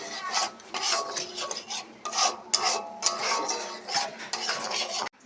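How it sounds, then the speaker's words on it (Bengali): Spice paste for potato curry (aloo dum) frying in a pan as a utensil stirs and scrapes it repeatedly, producing a continuous rasping, rubbing texture with soft sizzle and occasional metallic clinks, close and fairly loud. "আলুর দমের মশলা কষানো হচ্ছে"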